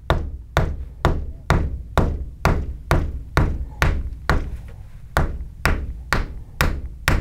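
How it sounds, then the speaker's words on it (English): A hammer taps a soft lead ferrule knot on a Zorro-style bullwhip. About fourteen evenly spaced, dull knocks fall in a steady rhythm, close and moderately loud, with no talking over them. "I'm just almost letting the weight of the hammer do the work because this lead is so incredibly soft."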